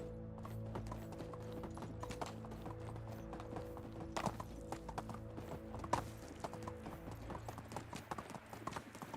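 In the medieval survival game Medieval Dynasty, a ridden horse clip-clops steadily at a walking pace with occasional snorts and tack jingles, over quiet game music and no speech.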